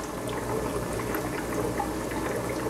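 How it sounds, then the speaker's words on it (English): Aquarium water being siphoned off the tank bottom through thin airline tubing during a water change in a clownfish setup, a steady close trickling, gurgling flow of liquid running continuously throughout with no talking. "I just go with the airline tubing and make sure I don't catch any fish. And just siphon off the bottom"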